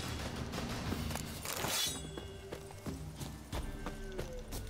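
A horse gallops in the Witcher 3 video game, its hooves pounding in a fast rhythm alongside a burst of clattering game sound effects, all loud and close.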